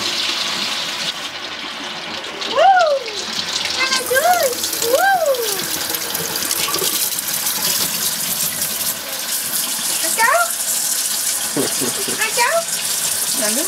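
Running water from a household shower hisses and gushes steadily, loud and close, while voices talk over it with rising and falling tones.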